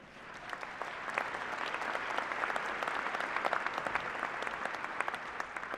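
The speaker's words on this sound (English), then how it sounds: "Please give him a round of applause." An audience at a fall university commencement applauds the system president, a thick, sustained roar of many hands clapping throughout, fairly distant and even in loudness.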